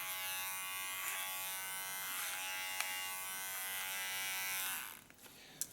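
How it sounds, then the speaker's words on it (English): Large electric hair clipper buzzing steadily close by as it trims hair, a constant hum with small clicks, then it stops abruptly near the end. "And so far the large clipper."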